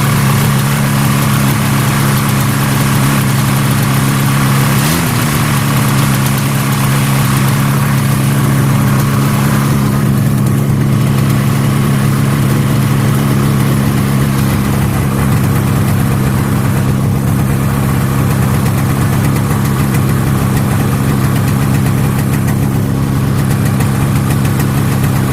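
Two old snowmobiles, a 1979 Arctic Cat Jag 340 and a 1974 Polaris Electra 440, idle together after a cold start, with a steady, loud, uneven two-stroke drone that carries a brief blip and wavers slightly throughout.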